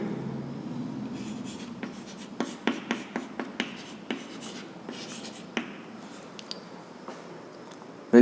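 Pen strokes writing equations by hand, a close series of quick scratchy taps and scribbles in uneven bursts, ending in a brief louder rustle.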